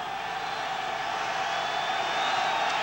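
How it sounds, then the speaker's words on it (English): A football stadium crowd at a 1992 Dolphins–Patriots game swells into a steady, rising roar on a third-and-short play, dense and continuous throughout, with a faint whistle-like tone near the end. "Crowd rising, third down, 6 inches to go for a Miami first down."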